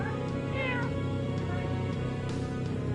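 A cat meows once in a short rising and falling call over steady, dense video-game background music and ambient sound.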